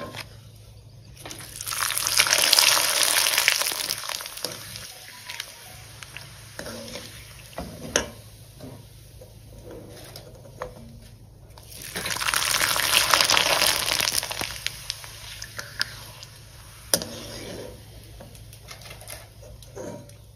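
Sago and potato papad frying in very hot oil, a broad crackling sizzle that swells loudly twice as each papad puffs up, then settles into a quieter bubbling with a few sharp clicks.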